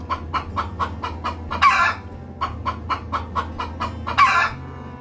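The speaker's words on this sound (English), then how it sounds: "Chicken. This is chicken." A chicken gives a run of rhythmic, evenly spaced clucks, broken twice by louder, harsher squawks, close and clear with no voices.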